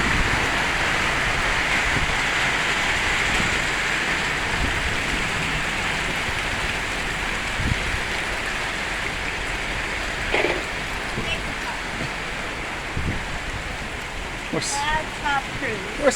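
Steady rain falls on a ranch in South Texas, a constant broad hiss throughout with a few faint sounds and distant bits of activity over it.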